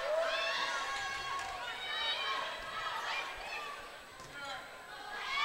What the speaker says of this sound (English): The Swink section of the crowd is getting really loud in this gym.